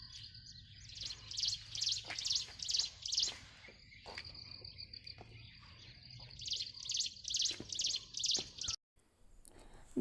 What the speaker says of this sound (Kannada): ಬರ್ಡ್ಸ್ ಎಲ್ಲ ಕಿಚಿ ಪಿಚಿ ಮಾಡ್ತಿದೆ.